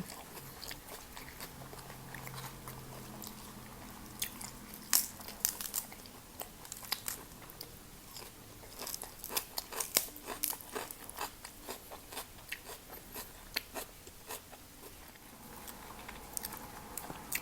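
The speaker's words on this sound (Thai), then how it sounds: "หัวกุ้งกรอบๆ มันๆ" Crispy fried shrimp heads in Thai miang kung are chewed up close, with steady wet crunching and biting that rises and falls over a long stretch, a few sharper crackles, no talking.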